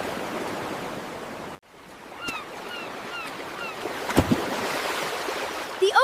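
Ocean surf washing onto a warm beach on a family trip, a steady broadband wash of waves with wind, bird cries faintly overhead and a brief quiet gap early on.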